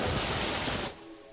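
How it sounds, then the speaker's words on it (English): Heavy rain in the Terraria video game, a loud dense hiss that roars for most of a second and then drops to a softer patter. "and holy moly, that rain!"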